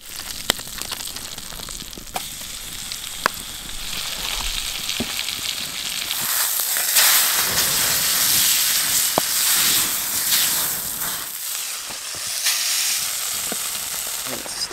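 Steak sizzling and frying in a pan at a campsite, a continuous close hiss and crackle that swells in the middle, with occasional stirring clicks and scrapes.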